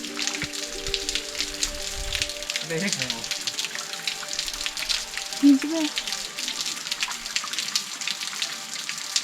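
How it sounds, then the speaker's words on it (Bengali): Natural spring water falls from a hillside, making a steady, moderate patter and splash like rain on a surface, with a few faint voices and small sounds briefly over it. "এখানে জল পড়ছে আর পাহাড় থেকে কোথা থেকে পড়ছে আমি জানি না"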